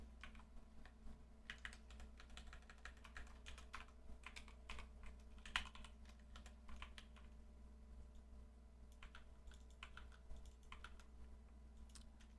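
Computer keyboard typing while code is written for a chess engine, a steady run of quick, light key clicks in irregular bursts with brief pauses, quiet and close, with no talking.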